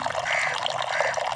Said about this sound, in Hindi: तो ये पानी भर रहा है